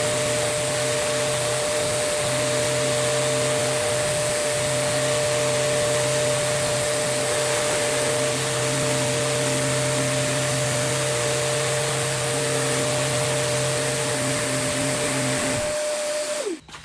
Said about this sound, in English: Even with 60 grit sandpaper on my sander with a vacuum, it's gonna take a long time to cut through all of that varnish